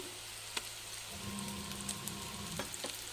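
Onions frying in a pan as ginger paste is added, a faint continuous sizzle with a sharp clink early on, then a brighter hiss and a few light taps, no speech.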